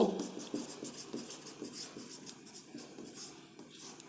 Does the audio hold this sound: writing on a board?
yes